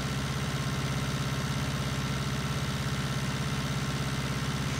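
A Massey Ferguson tractor engine idles steadily in Farming Simulator 19, a constant low rumbling chug with a fast even pulse and no change in pitch for several seconds.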